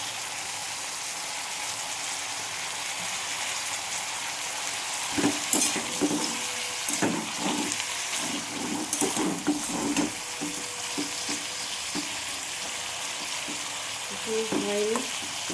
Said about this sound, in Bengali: আমার বিট ভাজাটা হয়ে এসছে।